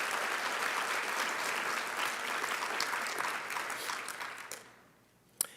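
Crowd at a school district Teacher of the Year 2022 ceremony applauding sponsors, a steady, full wash of clapping from a sizable audience that thins and fades near the end, closing with one last sharp clap.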